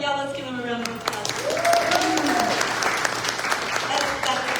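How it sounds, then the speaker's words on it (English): An audience at a coffee-and-conversation event in a convention center breaks into sustained applause. Clapping fills the room steadily throughout, with a person speaking over it at the start. "let's give him a round of applause"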